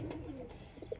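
A pigeon coos softly in a short, faint burst, with low murmuring tones close by and no voices.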